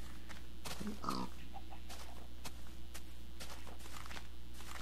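A Minecraft pig grunting and oinking once or twice at low volume, heard over steady game ambience, a few footstep clicks and someone talking.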